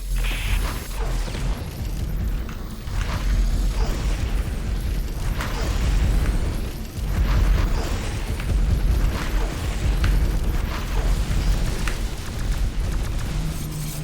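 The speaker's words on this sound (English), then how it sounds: "Artillery ready. Stand by for heavy pounding." Artillery strikes pound away in the X-Morph Defense game, a steady wash of rumbling booms and bursts under continuous mechanical noise, with no voices over them.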